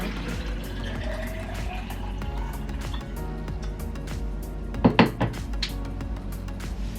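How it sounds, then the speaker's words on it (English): Water poured into a cooking pot, a soft trickle under clinking of metal and utensils, followed by a brief louder clatter of the pot near the end, no talking. "I'm gonna add some more water."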